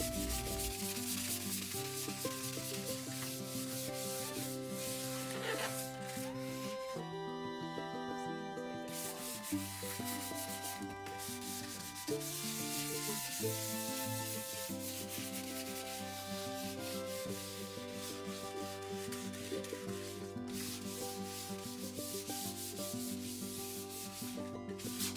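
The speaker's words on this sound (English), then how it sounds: "Once all your wood filler is completely dry, you're going to want to sand it all down. We like using 220 for this step." Dry wood filler on a board-and-batten accent wall is sanded by hand with 220-grit sandpaper, giving a steady, close rasping rub that continues with brief pauses over a constant background of music.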